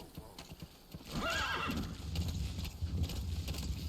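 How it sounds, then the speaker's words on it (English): Horse hooves clip-clopping at a gallop in Metal Gear Solid 5: The Phantom Pain, with a whinny partway through, followed by steady rapid hoofbeats, close and fairly loud. "Thank you, teleporting horse."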